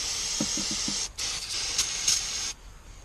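Cleaner sprays onto the power steering hoses of a 2010 Ram: four short pump clicks, then bursts of hissing spray that run for about a second and a half each, close to the listener.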